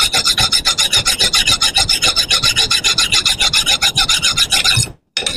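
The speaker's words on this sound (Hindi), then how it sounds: "जब मैं रेती लगाऊंगा तो ये देखिए कैसा निकल के आएगा नीचे से।" A rasp file is worked over a steel part from an oil expeller, loud close rhythmic strokes in quick steady succession, about a dozen rasping passes before a brief pause, no talk.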